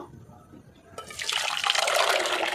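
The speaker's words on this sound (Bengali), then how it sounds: "এই যে পেস্ট হয়ে গেছে, এবার এটাকে ঢেলে নেব।" Blended watermelon paste pours out in a thick, wet splashing stream, starting suddenly after a quiet moment and then running steadily and close.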